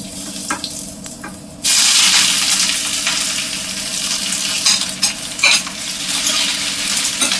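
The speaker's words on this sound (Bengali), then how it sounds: "তো এর মধ্যে এখন আমি ঢেলে দেবো কেটে রাখা পেঁয়াজ আর টমেটো। আগে পেঁয়াজটা ঢেলে দিচ্ছি।" Sliced onions hit hot oil with mustard seeds and burst into a loud, continuous sizzle, with the clink and scrape of stirring rising over the frying.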